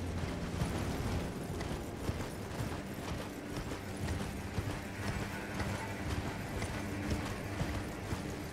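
Steady hoofbeats of a horse in a video game clip-clop at a trotting rhythm amid a dense rumbling background, moderately loud.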